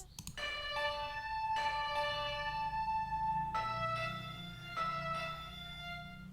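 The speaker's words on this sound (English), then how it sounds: "what I went on and added is this ethnic dual chimer from Ethnic Enquirers, also from the dark side, and I played in this pattern." An ethnic dual chimer sound from the Ethnic Enquirers library, softened with EQ and chorus, plays a lead melody pattern of bright, ringing struck tones that sustain and overlap over a low droning bed, steady and moderately loud with no talking.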